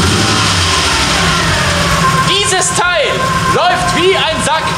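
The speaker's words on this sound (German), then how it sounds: "wie unrund dieser Motor hier im Stand läuft" A Volkswagen Golf 4 engine idles roughly and unevenly with a steady low drone, while someone talks loudly over it throughout.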